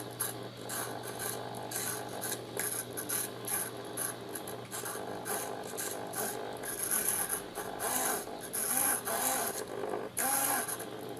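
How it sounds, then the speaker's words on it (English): A small servo motor, driven from a Delphi app track bar through an Arduino, whirs and ratchets in repeated short bursts, close and fairly quiet, with faint mechanical grinding between movements. "You can see that we can use the track bar to control the servo."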